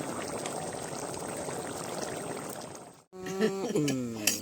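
Ghee going into a simmering curry made with palm seed kernels, a dense bubbling and pouring sound close by that stops abruptly, followed by a brief stretch of other noise.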